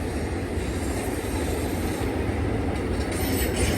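A BNSF port stack freight train rolls past at Cajon Summit, a steady, continuous heavy rumble of wagons and wheels on the main line, loud and close, with faint squeal and clatter throughout.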